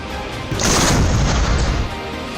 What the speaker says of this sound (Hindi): हिमालय की चोटियों पर बोफोर्स तोप एक्शन मोड में है।